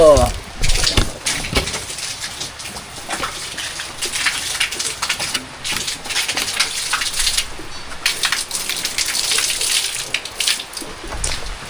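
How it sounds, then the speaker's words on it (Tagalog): Heavy rain falls steadily as a broad, continuous wash of noise, with a few bird calls near the start. "Tuloy na yung ulan."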